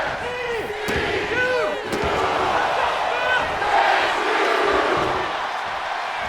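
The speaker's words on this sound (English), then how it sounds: "as the entire crowd has completely chanted the Chase U chant" At a wrestling event a large crowd chants in unison, loud and sustained, with rising and falling voices and an occasional sharp slam or thud cutting through.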